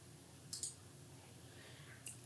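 A computer mouse button clicks twice in quick succession while cancelling a form rule setup, followed by a single fainter click near the end; the clicks are crisp, close and sharp against a quiet room hum.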